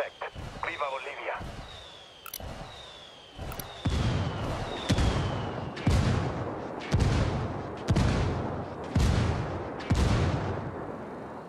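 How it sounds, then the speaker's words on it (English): Mortar barrage called in by rebels in the video game Ghost Recon Wildlands: a rapid series of heavy, booming impacts roughly every second, loud and rumbling, with whistling incoming rounds and radio chatter at the start. "I called the rebels for mortar fire."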